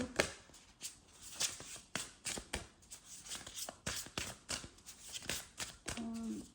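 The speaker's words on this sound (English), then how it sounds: "let me just quickly shuffle these for you" Tarot cards shuffled by hand during a pick-a-pile reading: a close, quiet run of repeated riffling and slapping bursts in an irregular rhythm, with some faint talk mixed in.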